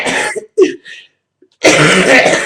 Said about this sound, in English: It's like I had a cough tick.